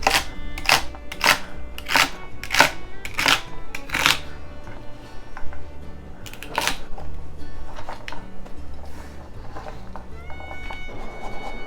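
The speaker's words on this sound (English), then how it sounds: "I'm chopping up my other vegetables, including the carrots, which I'm just cutting into big chunks" A knife chopping carrots and celery into chunks, with a quick run of sharp, evenly spaced board knocks at the start, then sparser cuts.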